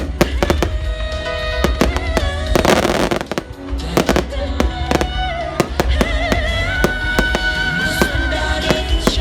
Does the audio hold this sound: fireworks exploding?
yes